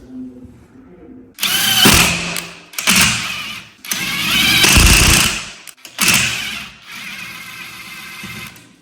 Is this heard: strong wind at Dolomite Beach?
no